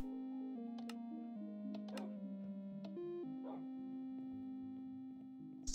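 Dogs in Minecraft let out several short yips and barks, spaced over a soft, steady tonal game background with faint ticking.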